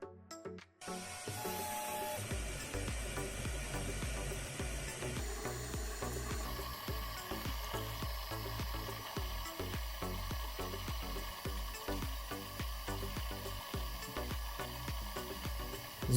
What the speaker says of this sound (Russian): наблюдать за процессом работы гравировального станка